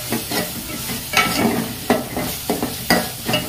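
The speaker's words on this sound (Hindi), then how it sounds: "मसाले को हम अच्छे से भूनेंगे जब तक कि इनका तेल जो है मसालों से अलग ना हो जाए" Spice masala for a soyabean chaap curry sizzles in oil as it is stirred and scraped around the pan, with loud close bursts of frying and spoon strokes roughly every second and no voices.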